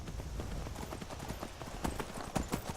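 Horse hooves clip-clop on a road in the game Skyrim, a quick uneven run of soft thuds set against a busy, noisy background.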